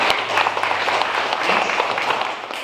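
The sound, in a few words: audience applause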